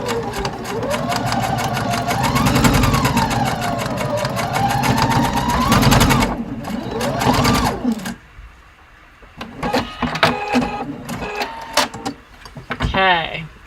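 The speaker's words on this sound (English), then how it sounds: "First, sewing where the overlap is along the edge." A sewing machine stitches fabric along an overlapping edge of a top in rapid running bursts that pause and restart, with a person talking over and between the runs.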